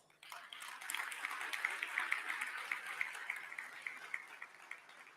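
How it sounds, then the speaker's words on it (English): Applause from the audience at a city State of the City event in McAllen, a sustained patter of many hands clapping at moderate distance, rising quickly and holding steady before trailing off. "we offer you all our thanks and a very well-earned round of applause"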